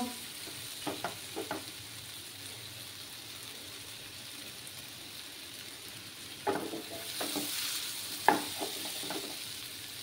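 Spice paste frying in a pan for a papaya and soybean curry, a soft steady sizzle broken by a few short clattering stirs and scrapes, close by with no talking.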